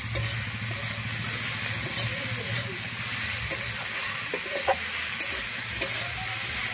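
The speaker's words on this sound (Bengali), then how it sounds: "দিয়ে আমি লবণ আর হলুদটা দিয়ে আবারও শাকের মধ্যে মিশিয়ে নিচ্ছি" Red amaranth greens fry with salt and turmeric in a Bengali village kitchen. A constant soft sizzle runs beneath scraping stirs and occasional utensil clicks, over a faint low hum.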